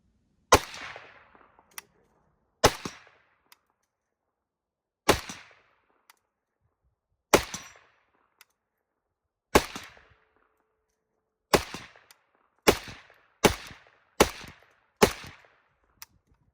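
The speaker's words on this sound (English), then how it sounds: "Let's see if we can put a few on the steel down there," PSA AK-47 GF3 rifle firing at steel targets 50 yards downrange on an outdoor range: about eleven sharp, separate shots spaced a second or two apart, quickening toward the end, each followed by a short ringing echo and faint distant clang.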